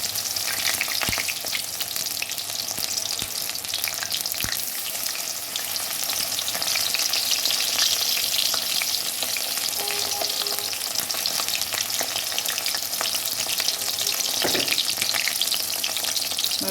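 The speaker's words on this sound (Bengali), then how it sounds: "উল্টে পাল্টে আমি ভেজে নেব।" Water lily flower fritters frying in hot oil, a steady broadband sizzle that stays loud and close throughout with occasional small pops and stirring clicks.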